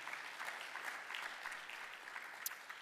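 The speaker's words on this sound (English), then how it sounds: "a round of applause, please" A room full of people claps steadily, a dense patter of applause at moderate distance that continues throughout.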